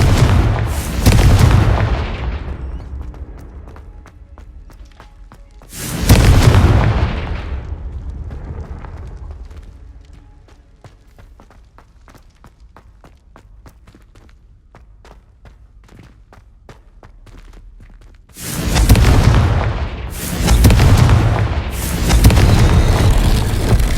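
Confringo spell blasts in the video game Hogwarts Legacy: three heavy, booming explosions with deep rumbling tails, the first two several seconds apart and the last as a pair near the end, separated by a quieter stretch.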